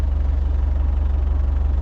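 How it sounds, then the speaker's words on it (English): A generator runs steadily close by with a deep, pulsing low hum and a rhythmic throb under a broad engine rumble, with no voices over it. "I started the generator a couple hours ago"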